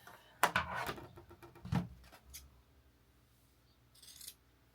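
Sewing scissors cut through fabric during a cozy craft session: a quick series of crisp snips up close, a heavier clunk of the blades a moment later, then a faint final snip after a pause.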